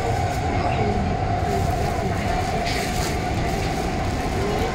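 An SMRT metro train runs between Outram Park and Tiong Bahru, heard from inside the car as a constant loud rumble and hum with faint rail clatter.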